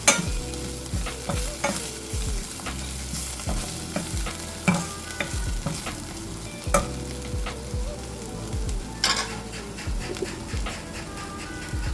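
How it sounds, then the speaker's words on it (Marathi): Dhaba-style garlic spinach paneer curry being stirred in a pan, a spoon scraping and clacking in a steady, repeated rhythm over a low sizzle, close and fairly loud with no voices. "हे सर्व घाटून घेऊया."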